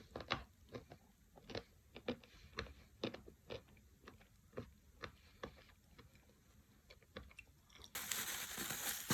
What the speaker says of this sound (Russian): Много откусила и все залипло.